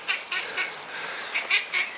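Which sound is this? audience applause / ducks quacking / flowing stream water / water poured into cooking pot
ducks quacking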